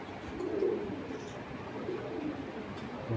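Racing pigeons coo softly in a loft, low rolling calls repeating at moderate distance over a quiet background, with a faint chirp now and then.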